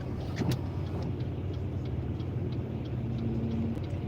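A car rolls forward again after a stop, a low steady engine and road rumble running throughout with faint ticking, close and continuous, no voices over it.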